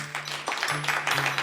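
An audience at a live cybersecurity comedy show in La Jolla applauding as a vote, a steady wash of crowd clapping that holds at moderate loudness for the whole stretch.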